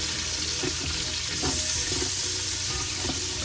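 Vegetables sauté in an Instant Pot with a steady, close sizzle and faint stirring scrapes running throughout, no voices over it.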